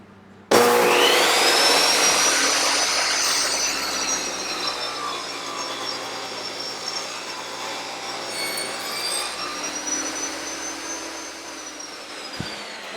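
A power saw makes one continuous cutting pass through a wooden workpiece, slicing less than half its thickness: a loud, steady whining roar that starts abruptly and holds for about twelve seconds before cutting off.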